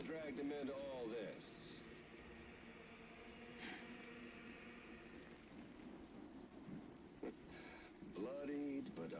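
Steady rain hiss in a video game, a continuous wash of falling rain with a faint thunder-like rumble, under intermittent talking.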